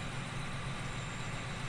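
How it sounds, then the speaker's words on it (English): A loud modded tractor engine in Farming Simulator 17 drones steadily at a rough, heavy idle, filling the short stretch with a constant low rumble. "This tractor is super loud."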